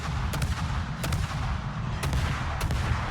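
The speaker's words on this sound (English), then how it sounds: "did I tell you that they just redid the gun sounds?" Naval ship guns fire salvos in World of Warships, several sharp booming reports spaced about a second apart over a dense rumbling battle background.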